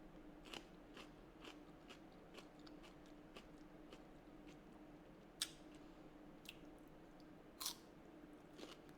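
Someone biting into and chewing a hard, unripe peach, giving a quiet series of crisp, celery-like crunches at irregular intervals, close up, with two sharper bites standing out.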